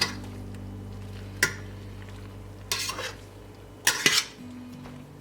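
Cheese gets stirred into sausage pasta in a skillet: a spoon scrapes and clanks against the pan in a few sharp bursts over a steady low hum, with no talking.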